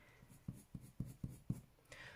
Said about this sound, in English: This is where I'm using that little bit of scumbling just to burnish it slightly.